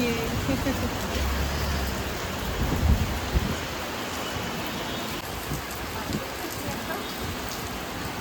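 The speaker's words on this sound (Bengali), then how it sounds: "এখন বৃষ্টি পড়ছে" Heavy rain pours down in a constant dense hiss during Durga Puja in North Kolkata, with faint voices and a low rumble underneath.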